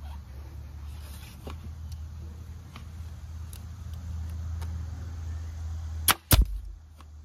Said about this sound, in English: I've used a staple gun before, but not a pneumatic one